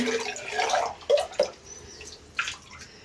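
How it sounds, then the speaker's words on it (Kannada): Water poured onto floor tiles during cleaning, splashing and gurgling up close in uneven bursts, with a few sharp splashes and drips standing out against a quiet background. "ನೀರು ಹಾಕ್ತಾಯಿದ್ದೀನಿ ನೋಡಿ."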